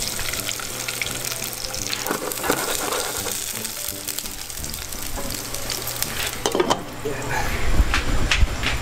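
Four garlic cloves sauté in a hot pan with steady, loud sizzling and frying that runs throughout, with some stirring and a brief clatter near the end.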